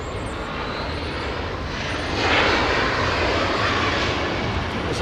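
A large jet airliner departs Los Angeles International Airport, its engine roar a continuous broad rush that swells noticeably about halfway through and holds loud to the end, with no talk.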